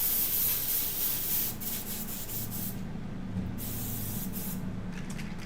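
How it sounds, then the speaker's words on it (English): Airbrush spraying pigment paint under strong air pressure, a steady close hiss throughout that eases slightly in level after the first second and a half, with no talking. "killing it with that airbrush"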